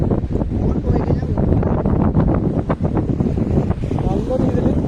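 Strong wind buffeting outdoors near the sea, where waves are breaking and water is flowing; a constant loud rush fills the whole clip, overlaid with someone talking.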